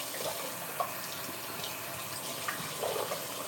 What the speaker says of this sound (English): Remember to rinse your face with like lukewarm water.